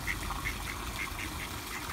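Ducks on a zoo pond with a small waterfall, quacking in several short, nasal calls spaced over a couple of seconds against constant rushing water in the background.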